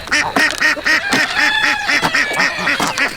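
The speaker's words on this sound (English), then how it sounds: "See, that duck's laughing." A duck quacks in a fast series of loud, nasal honks close by, about a dozen calls in quick rhythm with no talking.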